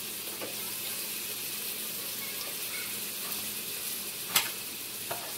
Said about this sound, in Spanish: pueden ver cómo se está la cebolla y el ajo